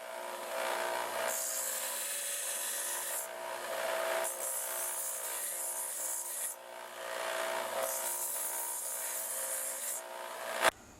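Rasping file strokes round off the sharp edges of a metal box and remove burrs, with several long, even back-and-forth passes separated by short pauses, close and fairly quiet.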